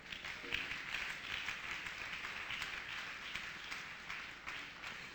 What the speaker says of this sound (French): Applaudissez-moi le Seigneur Jésus.